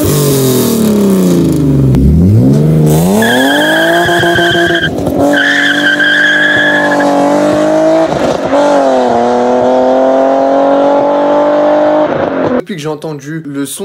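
A BMW E30 fitted with a Supersprint E36 exhaust silencer revs loud and close, its engine note swelling and falling through several sustained pulls with a brief gap before a sharper burst at the end.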